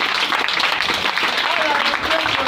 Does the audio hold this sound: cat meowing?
no